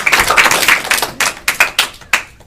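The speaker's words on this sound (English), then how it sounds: "Can you go ahead and give them a round of applause?" A classroom of fourth-grade students gives a round of applause, a short burst of uneven clapping that thins into a few separate, sharper claps.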